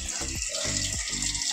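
Tap water runs steadily into a kitchen sink while dishes are being washed, a continuous hiss with faint clinks of utensils, fairly close and alone without talk.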